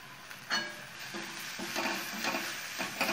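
Potatoes being sautéed for a Maharashtrian hotel-style potato bhaji, with a soft, steady sizzle in the pan broken by repeated light stirring scrapes, close and quiet.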